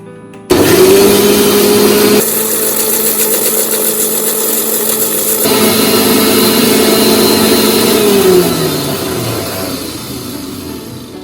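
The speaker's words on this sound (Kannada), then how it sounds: "ನಾವೀಗ ಶುಗರ್, ಎಗ್ ಮತ್ತು ಬಟರ್ನ ಚೆನ್ನಾಗಿ ಬೀಟ್ ಮಾಡ್ಕೊಂಡು ಬರುವ, ಮಿಕ್ಸಿ ಮಾಡ್ಕೊಂಡು ಬರುವ" Electric mixer grinder blending sugar, egg and butter for a multigrain atta cake, starting abruptly with a loud steady whirring drone that holds for several seconds, then winds down as the motor slows.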